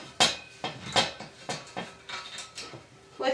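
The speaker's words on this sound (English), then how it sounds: "inserting one pipe inside of the other and tightening with" Plastic pipe sections for a balloon garland hoop frame are pushed together and tightened, giving a series of sharp clicking knocks and scrapes at an uneven rhythm, close and fairly quiet with no talk.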